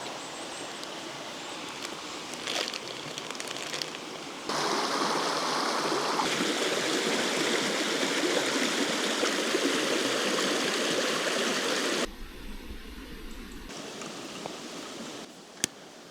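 A river flows steadily beside a campsite, a broad continuous rushing wash of water that swells louder through the middle stretch and drops back softer near the end, with no voices.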